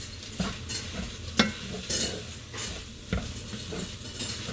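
Ground meat browning in a pan with carrots, celery and onion to follow, a steady low sizzle and frying hiss with repeated spoon scrapes and stirring clinks against the pan, close and fairly quiet, no talking.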